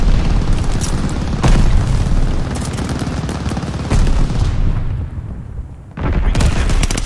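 Bombing run explosions in the video game Call of Duty Vanguard, a loud continuous barrage of booming blasts and rumbling impacts that drops off briefly before the roar returns.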